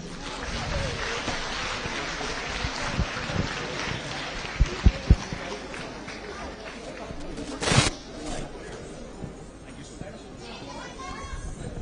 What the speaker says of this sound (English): through your applause, I'm not able to hear anything.